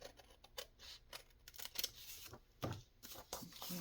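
Scissors trim paper for a fall junk journal page, giving quiet, close snips and rustling paper in a hushed room.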